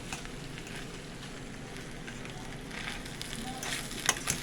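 Okra and rice sizzle in a pot on medium heat for a vegan West African rice dish, a steady close crackling fry with light scraping as the mixture is stirred near the end.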